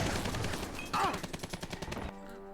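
Rapid gunfire from Riptide units in the strategy game Red Alert 3, a dense burst of repeated shots with a sharper crack near the middle, stopping abruptly near the end.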